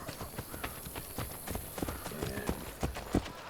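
Horse hooves clip-clopping at a steady trot in Assassin's Creed Brotherhood, a run of close, sharp knocks with an occasional snort or whinny mixed in.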